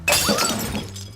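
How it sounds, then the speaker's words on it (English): Glass cargo shatters as a plane touches down in the video game Aviassembly: a loud, close crash of breaking glass with ringing, tinkling shards that fade over about a second. "every time I land, I break glass"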